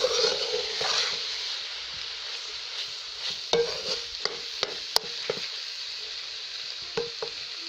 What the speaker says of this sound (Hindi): अब हम इसमें इलायची का पाउडर शामिल करते हैं और अच्छी तरीके से भून लेते हैं।